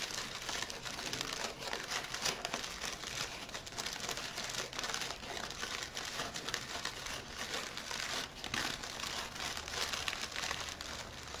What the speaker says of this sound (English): the way you fold your paper, that is creating the petals